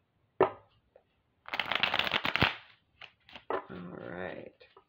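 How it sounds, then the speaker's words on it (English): Playing cards being riffled and shuffled in a few quick bursts, with soft taps and snaps between, close and quiet. "let's do one more shuffle"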